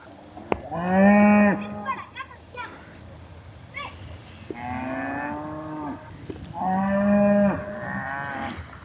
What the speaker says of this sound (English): right across the water I hear a bunch of cows.